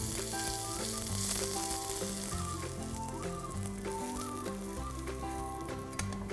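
Vegetable-topped bread slices coated in batter fry in a pan as a crispy veg masala toast, a steady close sizzle running under a bed of music with no talk.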